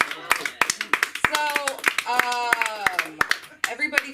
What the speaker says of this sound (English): clap it up for my jacket